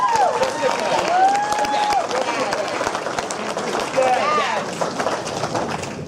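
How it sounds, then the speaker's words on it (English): Audience applause at a cystic fibrosis fundraising event honoring caregivers: sustained, dense clapping across the room with whistles rising above it, holding steady throughout. "Let's give them a round of applause."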